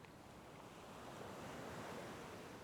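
Ocean waves wash and surge steadily around a sailing ship, a soft broad rushing roar mixed with wind noise, faint and continuous with no voices.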